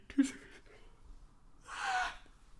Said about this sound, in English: I don't know why I'm yawning so much